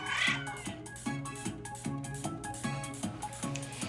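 Cats meow and yowl as a sound effect in a spooky Halloween read-aloud story, a steady run of drawn-out, wailing cries repeating in a regular rhythm, fairly close and alone.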